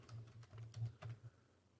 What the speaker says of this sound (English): I'm gonna type in lodge.